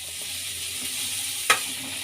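Onion and curry leaves sautéing in a pan for crushed radish gojju, a steady low sizzle with one brief sharp scrape of a spoon partway through, with no talking.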